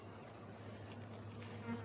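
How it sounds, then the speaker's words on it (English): A steady, close hum of many honeybees buzzing together in an open hive, continuous and fairly quiet, with no voices. "you can see the bees walking around and working"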